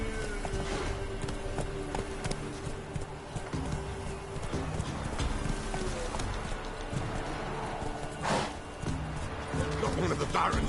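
Roach, a horse in The Witcher 3 video game, gallops with steady clip-clop hoofbeats under continuous game music and ambience, fairly close and moderately loud.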